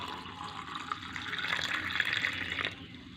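Cold water is poured into a jug to mix a summer sharbat, giving a soft gurgling pour that swells and then stops.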